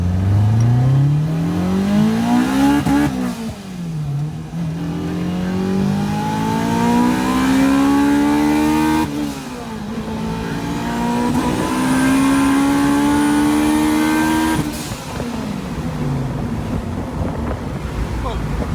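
A big-turbo Dodge SRT-4 revs hard in first gear on a dyno, its loud engine note climbing steadily in pitch through repeated pulls with brief dips between, accompanied by strong turbo whoosh and rushing noise.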